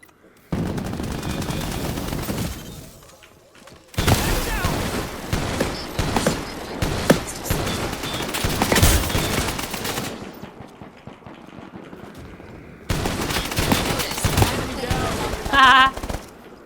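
Video-game shotgun fire in a crypto shooter, loud blasts and rattling volleys in several dense stretches broken by brief quiet gaps, with game sounds mixed in.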